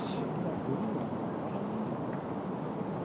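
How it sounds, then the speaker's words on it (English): Wind gusting across an outdoor golf course during the second round of the KLPGA NH Investment & Securities Ladies Championship, a steady, full rushing roar that continues for the whole stretch without a break. "The wind is picking up with it."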